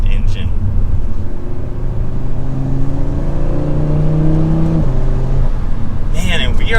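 A 2024 Audi RS3's five-cylinder engine revs and accelerates nearby, its pitch climbing steadily in a throaty drone, short-shifted under 5,000 rpm, with a brief shift near the end.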